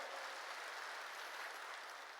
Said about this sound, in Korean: 박수치며 하나님께 영광 돌려